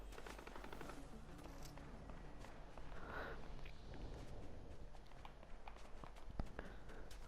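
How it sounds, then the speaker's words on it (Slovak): Gunfire in the video game Fortnite: rapid bursts of shots crackle through a steady, busy game soundscape, with a sharper report near the end. "Ej, tu sa strieľa."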